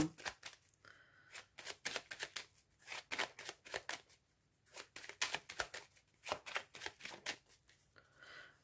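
A deck of tarot cards is shuffled and cut by hand, a close, quiet run of quick papery riffles and flutters in irregular bursts with short pauses between them.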